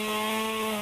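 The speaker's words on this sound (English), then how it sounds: "and chainsaws to help clear one road" Chainsaws cutting storm-felled debris off a road, a steady, loud, unbroken engine drone with strong harmonic whine held for the whole moment, no voices over it.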